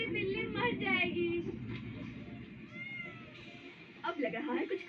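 A cat meows several times amid loud talking, its cries rising and falling in pitch.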